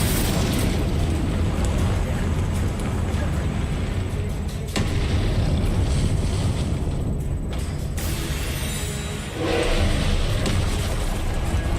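Confringo spell explosions in combat in the Hogwarts Legacy video game make a dense, continuous roar of blasts and booms, loud and unbroken, with brief surges and sudden drops in intensity.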